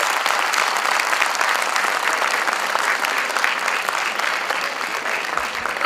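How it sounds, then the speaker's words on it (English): Loud, sustained applause from a large crowd at a law school moot court award ceremony, dense clapping that continues evenly throughout. "Please have a round of applause."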